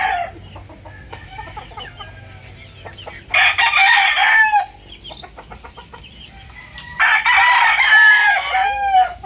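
Burdoguy Kapsul bloodline gamecock from PMM Game Farm crowing twice, two loud close crows a few seconds apart, with softer clucks and scratchy farmyard noises in between.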